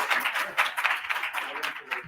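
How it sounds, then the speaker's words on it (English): A keynote audience claps steadily, a dense wash of many hands that holds at an even level throughout without any talk. "Lots of clapping."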